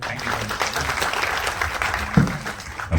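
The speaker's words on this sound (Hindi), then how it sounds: "एक बार जोरदार ताली होनी चाहिए।" Loud, continuous applause from an audience at a Hindi film trailer launch event, welcoming the director, with dense clapping sustained throughout and a few louder bursts.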